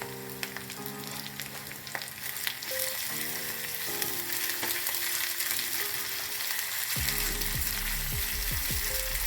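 Carrots and curry leaves fry in a pan for oats upma, giving a loud continuous sizzle with stirring scrapes and a burst of fresh crackle late on.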